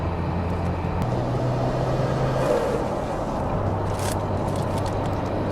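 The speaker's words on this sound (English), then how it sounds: "Yeah, the 6-speed though here is pretty solid. Going through all the gears, no problem." Nissan Skyline GT-R R34 V-Spec II with a six-speed manual, its engine droning steadily as it pulls through the gears, with low rumble and a brief tone change as the revs shift, continuous throughout.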